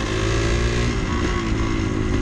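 A 1974 Yamaha DT360A motorcycle accelerating on a road, its engine giving a loud, steady buzzing drone from close by with wind noise and no speech.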